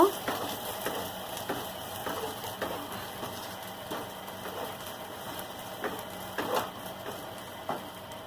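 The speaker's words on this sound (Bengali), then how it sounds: "সব কিছু দিয়ে মশলাটাকে ভালো করে কষিয়ে নেব।" A spice masala seasoned with cumin and coriander powder is stirred and sautéed in a pan for potol chingri. Near, steady frying hiss runs under repeated sharp scraping strokes of a spatula, spaced roughly a second apart, with no talk.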